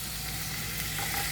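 Beans tumble into a hot pan and fry with a dense, loud, continuous sizzle over a brief moment.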